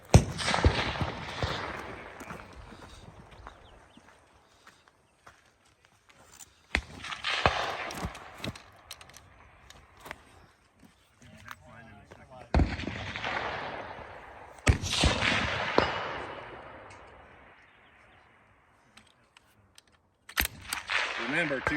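Rifle shots ring out across a shooting competition stage at the Accuracy International Classic, sharp cracks arriving in pairs and clusters with echoing tails, interspersed with quieter gaps of movement and background voices.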